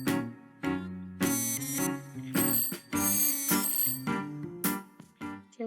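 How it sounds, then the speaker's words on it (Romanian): Phone ringing in the Dog Man video game, a bright repeated electronic bell-like ring in short bursts, loud and close, with no talk over it. "Se pare că îl sună pe Dogman"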